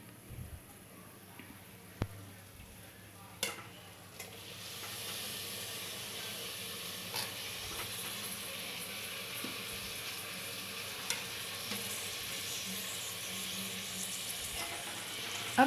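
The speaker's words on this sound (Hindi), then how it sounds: "इसमें ये वाली पूरे कटे हुए कांदे जो हैं मैं डाल देती हूँ" Chopped onions frying and being stirred in a pan with already browned onion, a steady close sizzle and hiss with a few brief clinks of a utensil, no talking.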